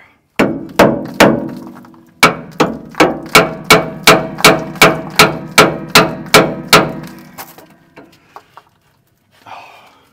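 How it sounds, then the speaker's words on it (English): Steady hammer blows ring out on a truck's metal brake slack adjuster, about a dozen sharp clanging strikes in a brisk rhythm with a short pause early on, then a few lighter taps. "So we're gonna have to do this the old school way with a hammer."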